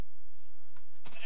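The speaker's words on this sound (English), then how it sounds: "It's just the sheep. They're walking around." Minecraft sheep bleating as they wander around in the game, a couple of short nasal bleats near the end after a quiet stretch, fairly close and clear.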